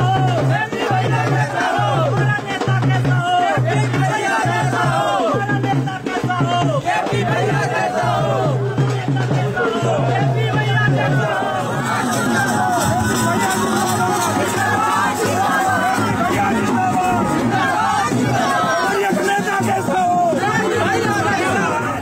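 A large crowd of villagers gathered at a public event makes a constant, loud babble of many overlapping voices. Chatter and occasional shouts rise together without a break.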